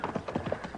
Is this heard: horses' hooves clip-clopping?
yes